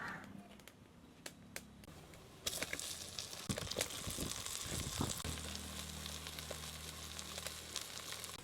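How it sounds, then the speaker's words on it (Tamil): Crab sizzles in oil in a pan for a Jaffna-style crab curry, a faint crackle broken by a few clicks and knocks, then a steadier, louder fry with stirring noises and a low hum beneath. "இந்த எண்ணெயோடையே நண்டையும் போட்டு எண்ணெயில் வதக்கி எடுக்கணும்"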